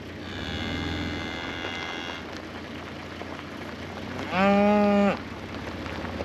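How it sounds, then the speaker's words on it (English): A cow lets out one loud, drawn-out moo near the end, following a fainter lowing call earlier, over steady outdoor background noise. "They were all mooing at me."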